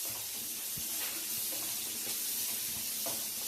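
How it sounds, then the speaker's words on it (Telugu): Chopped onion pieces frying in a pan for a dhaba-style paneer masala gravy, giving a steady, moderately loud sizzle with faint scattered clinks, no talking. "ఈ ఆనియన్ ముక్కల్ని ఫ్రై చేద్దామండి. ఈ ఆనియన్ ముక్కలు బాగా ఫ్రై అవ్వాలి"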